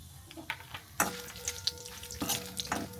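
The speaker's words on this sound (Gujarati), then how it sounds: "તો આપણે તેલ ગરમ થઈ ગયું છે. આપણે આ સૂકા મસાલા બધા લીધા છે એ નાખી દઈએ આમાં." Dry spices hit hot oil for samosa filling with sudden crackling sizzles, followed by scraping and stirring sounds in a pan, close and busy.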